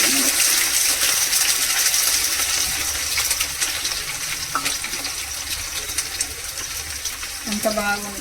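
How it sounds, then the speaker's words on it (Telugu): Onion fries in oil with cumin and mustard seeds for a stuffed brinjal curry, a continuous crackling sizzle with occasional clinks of a utensil against the pan. "ఒక పెద్ద ఆనియన్ వేసుకుని నేను మంచిగా వేయించుకోవాలండి"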